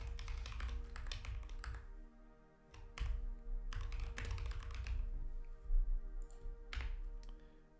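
Someone types on a noisy computer keyboard while coding, with steady clattering keystrokes and brief pauses between bursts, heard alone over a faint constant hum.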